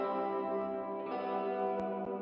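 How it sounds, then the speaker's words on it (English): An electric guitar played through the Guitar Stomp plugin with only delay engaged rings out in sustained chords, the repeats trailing and smearing into a spacey wash, fairly quiet with a light pick attack near the end. "This is just delay."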